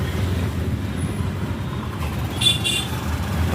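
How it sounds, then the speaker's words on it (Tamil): Heavy road traffic on a busy Chennai street with buses, a continuous dense rumble of engines and tyres, and a brief higher hiss near the end, steady and close throughout with no talk. "இல்லைப்பா டிராஃபிக் நிறையா இருக்கிற இடம்."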